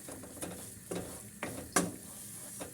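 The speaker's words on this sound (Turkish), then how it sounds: "3 dakika tahminen kavuruyorum ben bunu en azından" Homemade tarhana, dried in the shade and sieved, roasting in a pan while a spoon stirs it: a handful of dry scraping strokes spaced about half a second apart over a soft, steady sizzle, close and fairly quiet.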